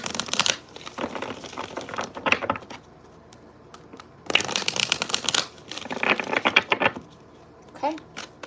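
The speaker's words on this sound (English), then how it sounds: "I'm going to do a couple more shuffles." Tarot cards being shuffled in several quick riffling bursts, close by, with short pauses between them and no talking.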